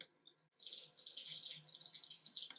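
A thin stream of water running from a tap during a static electricity demonstration with an uncharged balloon: a steady, close splashing hiss that starts after a brief pause and continues to the end.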